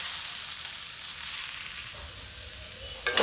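Vegetables fry in a pan with a steady, close sizzle while being stirred, ending in a short louder clatter of the spoon against the pan.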